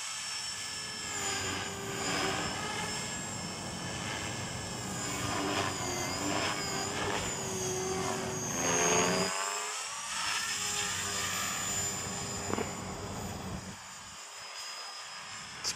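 A 450-size sport RC helicopter on its maiden flight, a steady high-pitched rotor and motor whine with shifting pitch as it maneuvers, fairly distant and continuous, dipping briefly near the end.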